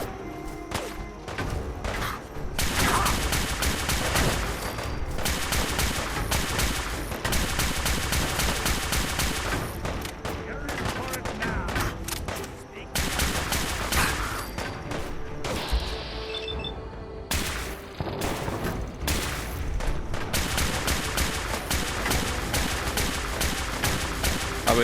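Dense, sustained gunfire from a weapon in a video game rattles almost continuously, loud rapid bursts mixed with impacts and crashes, forming a thick wall of sound with few pauses.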